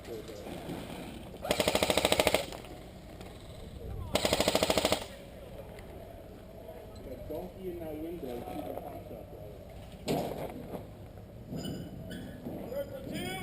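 Airsoft guns fire in two sustained automatic bursts near the start, then a shorter burst later, loud and close over steady outdoor ambience during a game around buildings, with players talking quietly in between.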